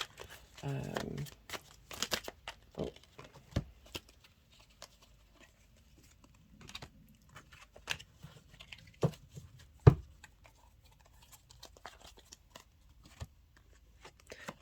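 Tarot cards being shuffled and handled at close range, with soft riffling patters and sharp slaps and taps scattered in irregular bursts, fairly faint against near silence.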